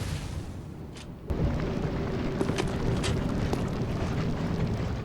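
Shotgun blast from an old hunter enemy in the gothic action game Bloodborne, in the Yahar'gul, Unseen Village area: a sudden loud boom cutting into a rumbling noisy backdrop, followed by a few sharper hits and impacts.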